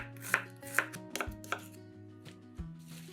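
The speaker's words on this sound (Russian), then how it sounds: "Лук нарезаем полукольцами." A knife taps sharply on a cutting board in a slow, uneven rhythm, slicing an onion into half rings with quiet crisp cuts.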